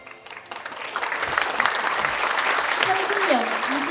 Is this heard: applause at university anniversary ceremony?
yes